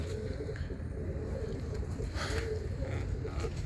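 Birmingham Roller pigeons coo softly in low, repeated murmurs over a steady background hum, close by, with no one talking.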